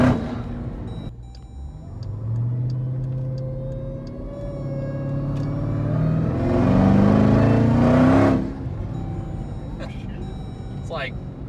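A rare green Jeep Trackhawk with big exhaust pipes rumbles and revs from inside the cabin, building to a loud, roaring surge before it drops off, while people talk over it.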